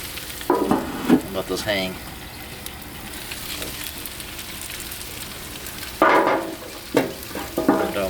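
Mandarin voodoo pork tenderloin bites sizzling on a Blackstone griddle outdoors in the rain, a steady crackling hiss with a brief scrape and clatter near the start and again after a pause, while someone talks briefly.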